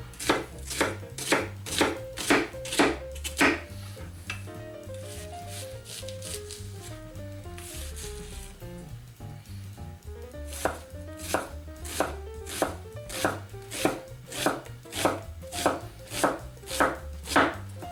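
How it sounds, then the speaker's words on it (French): Peeled onion is chopped into small pieces with a knife on a board, a brisk regular run of close knocks that pauses midway and then resumes just as steadily. "J'ai épluché l'oignon, on va le couper en petits morceaux."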